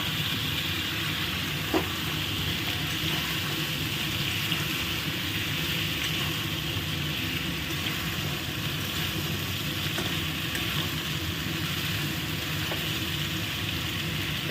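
Pumpkin, potato and pointed gourd sizzling in hot spiced oil, a steady, even frying hiss with faint stirring clinks, continuous and close throughout.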